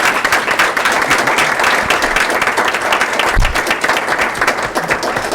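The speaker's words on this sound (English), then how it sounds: "So, everybody, applause." A school district board meeting audience applauds a departing member: loud, close, continuous clapping from a crowd, sustained and even throughout with no voices on top.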